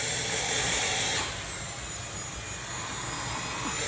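A vacuum cleaner runs over a sofa indoors with a steady, whining roar. The drone is loudest in the first second, then settles to a slightly lower, even hum.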